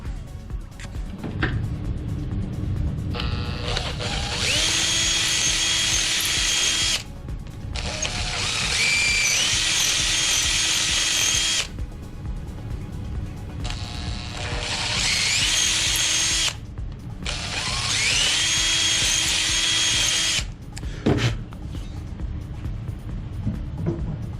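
A power drill bores out parts for the inner wing structure of a RANS S-21 aircraft, in four loud sustained bursts of several seconds each, separated by brief pauses, with no talk.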